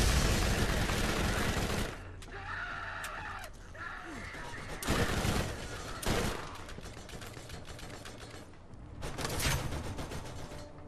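Turret gunfire from the Borderlands video game: dense broadband bursts of shots in several loud stretches, with quieter mechanical gaps between them.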